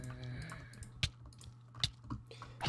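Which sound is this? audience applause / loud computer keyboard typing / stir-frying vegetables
loud computer keyboard typing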